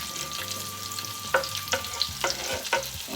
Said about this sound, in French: frire mes ingrédients pour pouvoir faire ma sauce tomate.